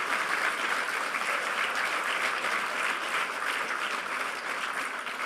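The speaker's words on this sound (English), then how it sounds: "give a huge round of applause for the volunteers who have been working so hard to bring this to you" Steady, dense applause from a hacker conference audience honoring the volunteers, an even wash of many hands clapping without pause, moderately loud and heard alone with no talk.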